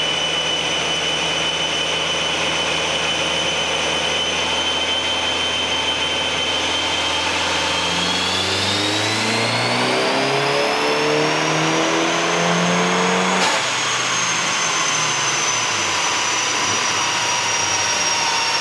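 A Mitsubishi Evo with an HKS boost controller revs on a dyno, its engine note climbing steadily through the gears in a long, loud run before dropping off sharply near the end, with no talk.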